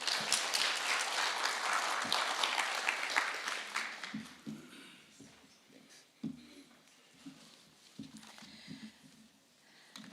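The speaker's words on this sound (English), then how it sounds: "Let us once again give Mr. George Bochiwe a golden round of applause, please." Conference audience applauds: a thick burst of many hands clapping for about four seconds, then fading into scattered claps and a few voices in the room.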